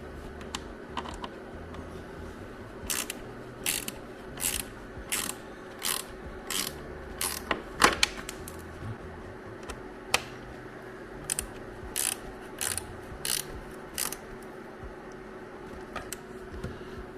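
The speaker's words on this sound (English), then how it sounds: "it's just a 1/4 inch drive, 1/4 inch wrench, and that will drive them in" A 1/4 inch drive ratchet wrench drives side panel screws into a 3rd-gen KLR650, giving a run of evenly spaced, crisp ratchet clicks up close in a quiet garage.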